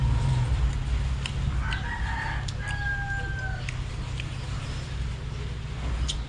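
Chickens cluck and chatter in the background over a steady low hum, with a faint rooster-like call drawn out in the middle.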